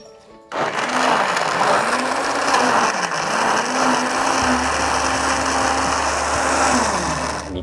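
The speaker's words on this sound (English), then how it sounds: "I'm gonna add in like about a cup of water or so" A blender whirs steadily while grinding chilies, turmeric and water into a Southern Thai gaeng som curry paste; the motor drones loud and continuous for about seven seconds, with the pitch dipping and wavering as the load shifts.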